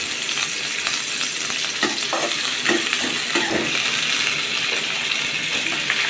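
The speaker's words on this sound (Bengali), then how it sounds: "পেঁয়াজ কুচি দিয়ে এটা একটু লাল লাল করে বাজি নিতে হবে" Chopped onions browning in a pan make a loud, constant sizzle, broken by scattered scrapes and clinks from stirring, heard up close without speech.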